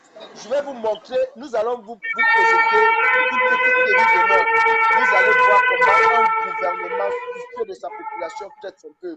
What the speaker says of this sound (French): Ça, c'est la sirène de l'ambulance